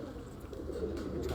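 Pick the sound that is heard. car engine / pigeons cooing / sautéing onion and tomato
pigeons cooing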